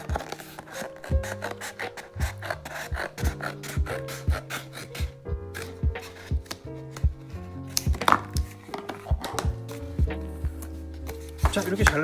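Scissors cut a paper plate in half with repeated crisp snips and rasping crunches at close range, over tonal background music.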